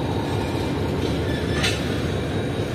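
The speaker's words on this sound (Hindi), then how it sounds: "तो ये माहौल है कुछ इस वक्त खानेवाल रेलवे स्टेशन का" Pak Business Express train at Khanewal railway station: a loud, steady rumble of rolling rail cars with constant broadband noise and a faint higher squeal midway, no speech.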